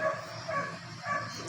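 A dog barks three times in a quick, even rhythm, moderately loud and close, with no talking over it.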